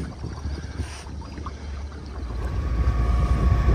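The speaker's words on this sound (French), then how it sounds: "Moteur. On longe la côte, toujours pas de vent." A sailboat motors along the coast between Marmaris and Datça in calm conditions with no wind, its engine giving a low, steady rumble that grows louder, with some wind and water noise over it.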